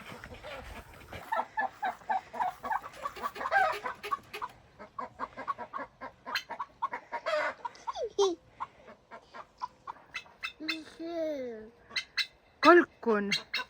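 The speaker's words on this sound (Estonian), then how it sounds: "Kalkun." Farmyard poultry calls, squawks and clucks with a gobbling turkey among them, sounding in bursts over about fourteen seconds, close by and mixed with frequent talk from people standing near the birds.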